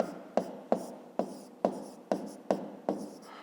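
Handwriting during a fifth-grade geometry lesson: about eight brisk, evenly spaced scratching strokes in a steady rhythm, close and moderately loud, with no talk.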